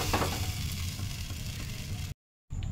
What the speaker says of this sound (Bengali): আমি আর একটা ভাজছি, আবার একটু বড় বাটার দিয়ে দিলাম সুন্দর করে।